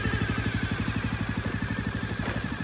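Close-up idle of a 1997 Honda Dream 50 motorcycle engine, a fast, regular chugging pulse with light valve clatter, steady throughout and no voices.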